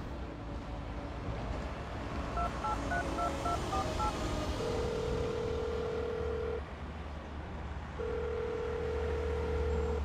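A quick run of telephone keypad tones is dialed, followed by long steady tones with a short gap between them, over a low background hum.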